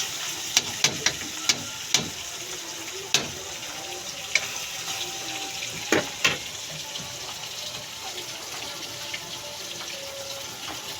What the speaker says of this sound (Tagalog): Saka natin lagyan ng tubig